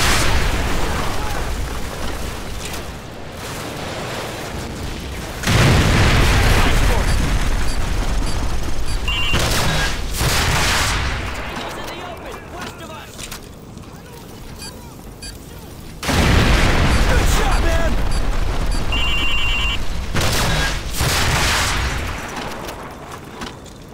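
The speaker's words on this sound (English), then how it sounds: "Taking heavy fire on our position north of the overpass!" Heavy gunfire and explosions fill a Call of Duty 4: Modern Warfare battle at a bridge and overpass with tanks and vehicles. Two long stretches of loud, rapid shooting and blasts rise over a constant rumble of combat.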